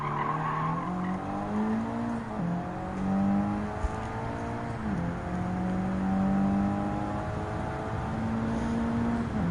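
Engine of a race car in Gran Turismo 7 holds a steady, continuous drone that rises and dips with throttle and gear changes, with faint tire squeal mixed in, loud and alone without voices.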